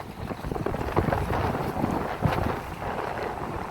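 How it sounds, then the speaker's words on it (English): A chilly east-northeast wind at sea off the island of Unst in Shetland buffets the microphone with steady, loud rumbling gusts, mixed with faint water sounds around the boat. "It's a very chilly east-northeast wind blowing, but it's not too bad."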